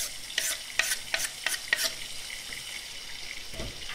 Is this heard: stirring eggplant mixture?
yes